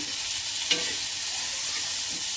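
Onion and tomato fry in a pan, a steady close sizzle with a brief stir partway through, no voices.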